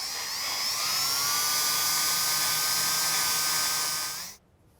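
A drill bores through the metal body of a Cybertruck during a rear camera washer install, a loud steady high-pitched whine held for about four seconds before cutting off abruptly into near silence.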